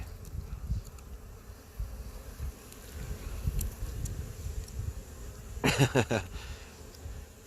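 Honeybees drone faintly and steadily around beehives outdoors, with one closer, louder buzz passing by briefly near the end.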